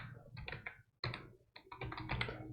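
Rapid keystrokes on a computer keyboard while coding an Angular 19 app, clattering in uneven bursts with two short pauses, close and fairly quiet, with no talking.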